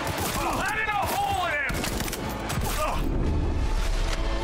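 Gunfire in Cyberpunk 2077, a loud barrage of shots and mechanical clatter in a chaotic firefight with sirens or whining tones, and voices talking over the action.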